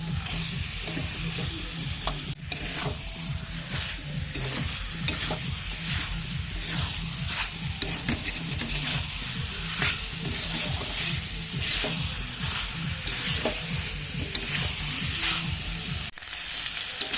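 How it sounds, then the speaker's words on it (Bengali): Chopped meat with salt and turmeric sizzles and fries steadily in a pan, with a repeated scraping rhythm of stirring running over the continuous hiss throughout. "এবার ভালো করে সব কিছু একসঙ্গে কষিয়ে নেবো"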